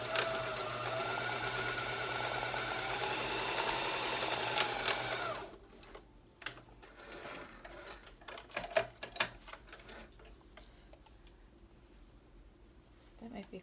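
Sewing machine stitching the ear loops of a fabric batwing mask, a fast steady whirr for about five seconds, then stopping and leaving soft handling noises and quiet movement.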